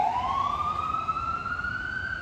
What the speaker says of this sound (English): Ambulance, y'all can see them.